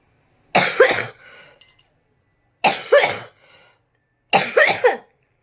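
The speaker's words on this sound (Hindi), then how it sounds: "क्या अब मेरी जान लेके मानेगी ये खांसी?" Three separate bursts of harsh, hacking coughing, each a cluster of rough coughs followed by a short wheezy breath, close and loud with pauses between.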